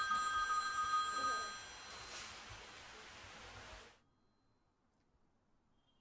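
A telephone rings faintly with a high, steady electronic trill for a couple of seconds amid hiss, then everything drops to near silence.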